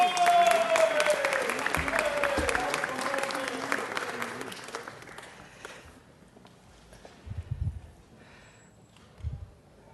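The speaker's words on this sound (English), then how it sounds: "let's give them one more round of applause" An audience at a city council meeting claps in a loud burst of applause that gradually fades out over several seconds, followed by a few scattered bumps and low murmurs in the room.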